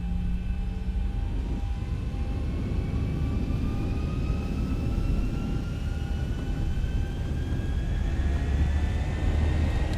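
Boeing 737-800 jet engines at takeoff power in a flight simulator give a steady, loud, broadband roar with a rising whine, continuous for the whole stretch without talk.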